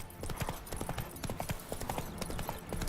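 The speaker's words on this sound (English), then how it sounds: "Spooking my horse." Hooves of Roach, a horse in The Witcher 3 video game, clip-clop in a quick, steady rhythm, fairly faint and unbroken across the moment, with no speech over them.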